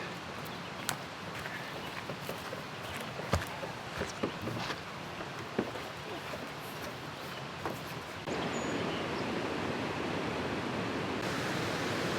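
River cascades and waterfalls along a canoe route: a steady rush of water with scattered rustles and knocks, becoming a louder, dense roar in the final few seconds.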